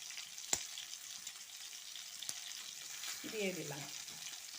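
Two cardamom pods and a bit of cinnamon crackle in hot oil in a wok-style pan, a faint steady sizzle with a couple of sharp clicks, while someone briefly speaks near the end.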